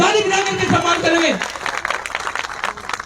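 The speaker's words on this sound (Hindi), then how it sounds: "मैं चाहता हूं ताली बजा करके सभी लोग सम्मान करेंगे" Audience applause at a BSP political rally in Saharanpur, a burst of crowd clapping rising after someone speaks over a loudspeaker, then continuing as a loose, dense patter.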